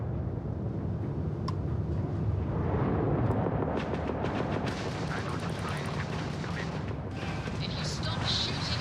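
Spaceship weapons firing in a Starfield space battle: dense, sustained rumbling gunfire and booming blasts over a continuous roar, with sharper crackling bursts toward the end.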